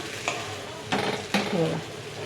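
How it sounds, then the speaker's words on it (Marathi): A spoon scrapes and stirs sabudana khichdi mixed with peanut powder in a pan, giving three distinct scraping strokes over a soft background sizzle. "याला असं छान एकसारखं हलवायचं आहे आपल्याला"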